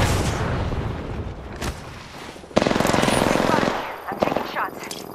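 Rapid automatic gunfire erupts in the battle royale game Apex Legends, with dense bursts of loud rattling shots and sharp impacts over a busy, echoing game soundscape, and a character voice speaks briefly.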